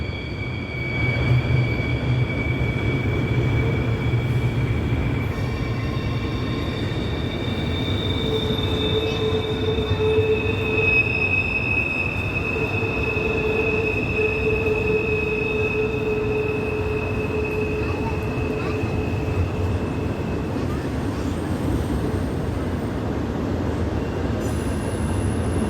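An intermodal freight train rolls steadily past L'Enfant Station in Washington DC, with a continuous rumble of wheels and long, high-pitched squeals from the rails throughout.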